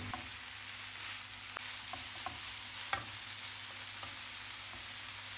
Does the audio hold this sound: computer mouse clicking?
no